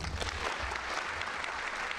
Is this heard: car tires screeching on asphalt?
no